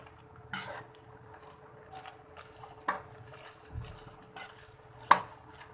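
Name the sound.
stirring and roasting bread halwa in milk in a pan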